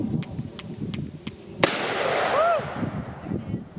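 A revolver firing .45 Colt ammunition, one loud close shot ringing out after a few faint distant pops, followed by a lingering tail with a brief whistling tone.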